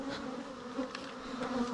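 Bees swarming around a hive, a continuous close buzzing drone that holds steady and swells slightly in loudness, with no voices.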